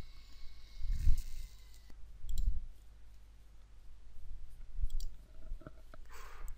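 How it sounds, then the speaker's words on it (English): Computer mouse clicks during a Windows software install, several short quiet clicks in small clusters spaced a second or so apart over a low background hum. "And just click double on this."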